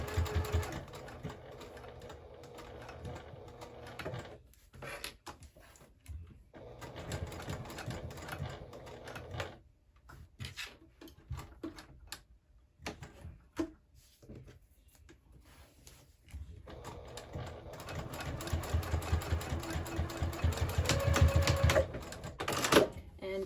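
A home sewing machine stitches a bag strap in bursts of steady running, broken by short pauses, with a person speaking at times between the runs.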